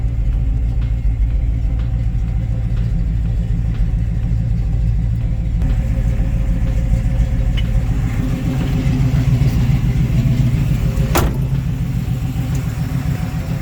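A deep, rumbling muscle car engine idles steadily and loudly throughout, with a slight change in tone partway through.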